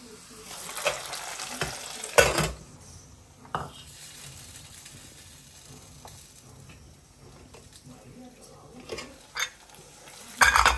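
A sizzling tempering is poured into tomato dal and stirred, producing a continuous frying hiss with a few sharp metallic scrapes and clanks of the pan and spoon.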